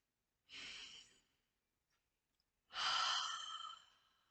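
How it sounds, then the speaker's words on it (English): Two slow, deep breaths, a soft exhale and then a longer, stronger breath out through the mouth, close and quiet with silence between them. "Let's take another deep breath in and out."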